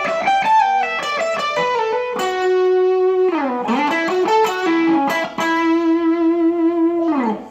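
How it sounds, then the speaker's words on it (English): A high-gain distorted electric guitar plays a melodic phrase with sustained, gritty notes and bends, saturated in tone but modest in volume. "So it's got that nice distortion sound,"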